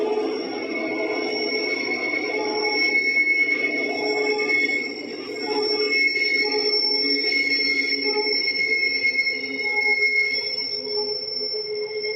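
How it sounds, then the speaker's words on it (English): A Bernina railway train in the Swiss mountains climbs a spiral loop, with a steady rumble under a long, sustained high-pitched wheel squeal that holds for the whole stretch, heard from inside the last carriage. "It's pretty impressive watching the train just work its way up the circle."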